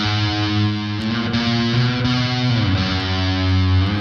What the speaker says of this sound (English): Here's the guitar over to the left.